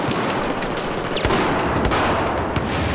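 Dense, continuous gunfire from the Battlefield 4 video game on the Operation Metro map, with rapid overlapping shots and sharp cracks sustained for about three seconds at steady loudness.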